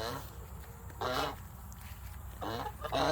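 Farm geese let loose near goats give three short bursts of loud, nasal honking, close by over a quiet background.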